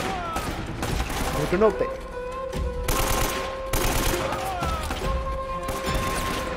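Rapid bursts of gunfire in Uncharted Remastered on PS4 Pro crackle throughout, mixed with game effects, while someone briefly speaks in Hindi over the shooting.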